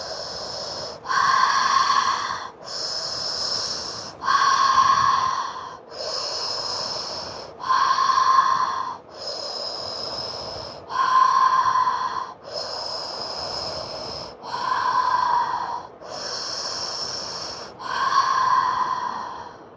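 Steady, rhythmic breathing during a fascial maneuvers exercise class, with about eight slow, even breath cycles, each a soft breathy rush that swells and fades, close and fairly clear with no talking.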